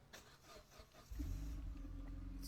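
A car on its stock exhaust starts to idle after a second of soft rubbing and handling noises, settling into a steady low, quiet engine rumble with a faint hum, no voices.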